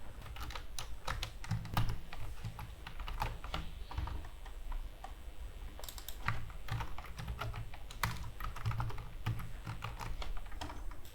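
Someone types code on a computer keyboard, quick irregular clusters of close, crisp key clicks with short pauses between bursts, quiet and without any talking.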